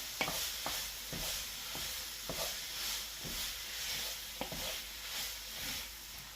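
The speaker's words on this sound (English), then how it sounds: "So I'm just going to stir that around" Food is stirred in a pot with a sizzling, hissing background, and a spoon scrapes and taps against the pot at irregular intervals.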